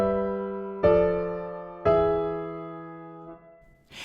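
A three-voice lament bass progression played as a musical example: sustained harmonic chords struck about once per second, each decaying before the next, ending on a softer final chord.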